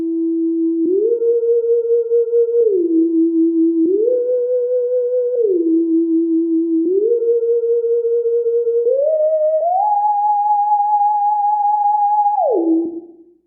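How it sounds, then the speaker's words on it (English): Theremin-style lead from a Roland SH-101 synth, modelled on the opening of Portishead's Mysterons: a single sustained tone gliding up and down between pitches in a slow, repeating wobbling phrase, loud and alone, finishing with a longer high note that slides back down. "how to make the Theremin style sound that you hear at the start of the Portishead track Mysterons"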